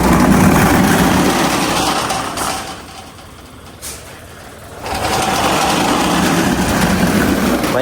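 A loud, continuous metallic grinding rumble from a sliding metal gate that is not yet riveted, rolling along its track, easing briefly in the middle before resuming at full volume, close by with no talking.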